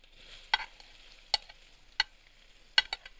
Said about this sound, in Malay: Kuali dah panas, kita tumis dia.